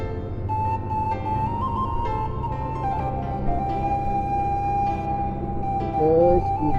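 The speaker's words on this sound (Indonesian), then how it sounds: "Kasih lewat, ambulan mau lewat." A wailing ambulance siren sounds steadily amid busy traffic and engine rumble on a road near Padang Panjang, Indonesia, rising in pitch near the end as it draws closer.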